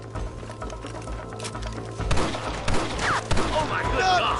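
Gunfire in Red Dead Redemption Remastered: sharp shots crack over a busy game soundscape, with a cluster of louder reports in the second half, and voices talk throughout.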